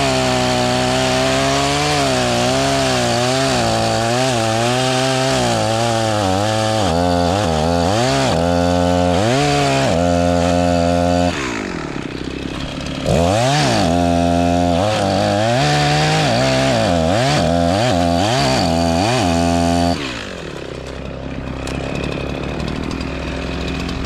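Chainsaw cutting into a sweetgum tree during felling, the engine revving loud and close in steady bursts with pitch dips as the chain bites, easing off briefly mid-cut before resuming and then dropping to idle near the end.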